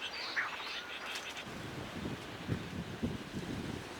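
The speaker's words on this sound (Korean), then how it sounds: "밤이 되자 가거도의 부속섬인 구글도가 먹잇감을 보채는 새끼 새들의 소리로" Storm petrel chicks calling for food at night on Gugul-do, an islet off Gageo Island, faint high chirps scattered over wind and low rumbling noise.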